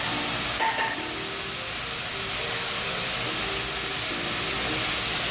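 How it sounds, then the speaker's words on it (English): An egg fries in hot oil in an egg pan, giving a steady, close sizzle and hiss that runs throughout with no talk. "we're gonna fry an egg over top"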